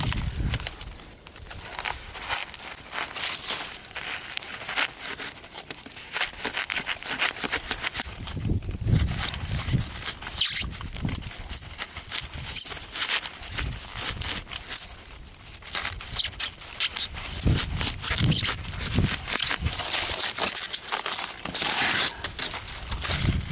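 Foil backing is peeled off camper insulation, making continuous close crinkling, tearing and crackling that rises and falls in irregular bursts for the whole stretch, with no voices.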